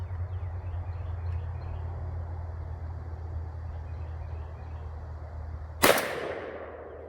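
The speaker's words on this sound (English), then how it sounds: "Now let's pattern a couple of shots at 25 yards and move it in and get a 10-yard shot." A single sharp gunshot from a Chiappa Double Badger combination gun, fired at a target 25 yards away outdoors. It cracks loudly once over a steady background hum, then decays quickly.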